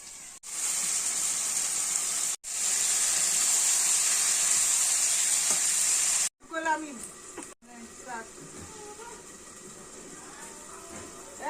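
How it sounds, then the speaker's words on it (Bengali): Fish fries on a wood-fired stove with a loud, steady hiss for several seconds, broken by brief gaps, then a voice talks over a quieter sizzle. "এই যে হচ্ছে মাছ ভাজা আর এই যে মশলা কষাচ্ছি এখন"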